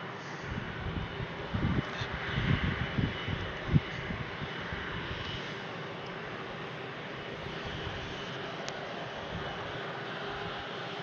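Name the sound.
aircraft landing at Brussels Airport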